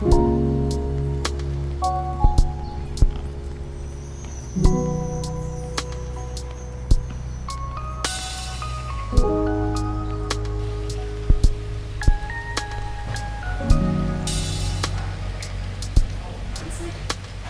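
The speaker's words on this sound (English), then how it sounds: "It's raining." Rain falls outdoors, with scattered drops tapping sharply now and then over a steady wash, while soft tonal music plays underneath.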